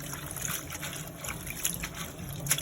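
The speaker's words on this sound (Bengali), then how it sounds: "শাকটি ধুয়ে নিচ্ছি।" Bottle gourd leaves being rinsed in water in a home kitchen, a steady close trickle and splash with small sloshing accents and no talk.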